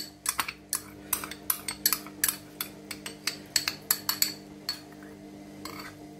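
A spoon stirring cream into chicken malai in a pot, a steady run of sharp metallic clinks and taps against the pot's sides, close and distinct over a quiet background hum.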